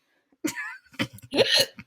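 A few sharp hiccups from a person, abrupt voiced gulps in quick succession, close and clear against silence.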